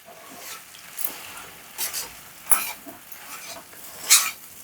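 Laddu mixture of chapati and flattened rice (atukulu) being stirred in a pan, with soft scraping and a few sharp clinks of the utensil against the metal, moderately close with no voices.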